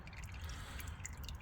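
Transmission fluid leaks from a Cadillac Allante and drips into a pan, a faint, quick patter of drops heard close and without talk.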